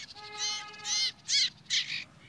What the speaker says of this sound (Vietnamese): Anh em nghe chim mẹ trên cây nó đánh không?